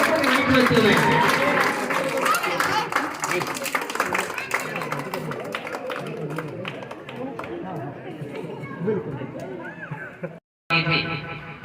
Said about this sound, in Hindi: उनके स्वागत के लिए तालियां